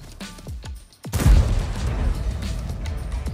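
A tank cannon fires in a World War II German-tank video game: a heavy boom about one second in, followed by rumbling, echoing noise. Faint earlier pops and thuds come before it.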